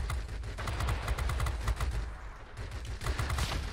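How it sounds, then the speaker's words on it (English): Rapid bursts of machine gun fire aimed at a Spitfire during a World of Warplanes aerial dogfight, close and sharp, with a brief gap before firing resumes. "I meant shooting you, of course."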